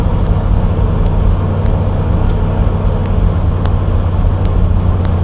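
Ford F600 farm truck with a weak battery, its engine running with a steady, loud, rumbling drone close by, faint periodic ticks above it and no voices.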